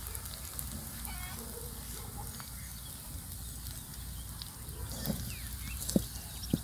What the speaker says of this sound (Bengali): বড়াটাকে এভাবে একটু কড়াইটাকে ঘুরিয়ে ঘুরিয়ে ভাজলে সব বড়াগুলো একরকম ভাজা হবে।